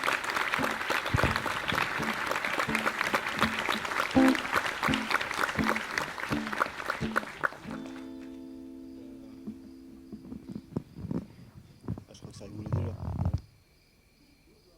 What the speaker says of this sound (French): Je vous demande d'applaudir bien fort Nicolas Thiebaud